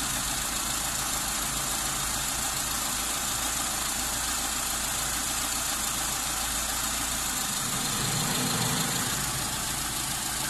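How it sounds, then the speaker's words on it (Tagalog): A Mitsubishi 4G13 engine with a piston-type carburetor idles steadily during idle adjustment, an even mid-pitched hum and vibration, close and continuous with a slight change in tone near the end. "bababaan ko ulit yung ating idle speed."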